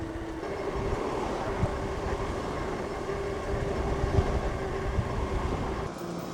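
A HOVSCO HovBeta folding e-bike runs on throttle, its motor whine holding steady beneath constant wind rush and road noise, close and continuous.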